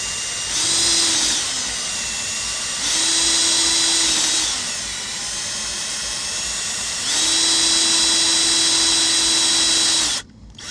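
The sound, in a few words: drill countersinking screw holes in cockpit hatch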